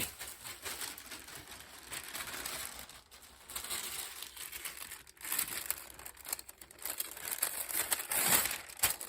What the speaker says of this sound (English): grab a piece of parchment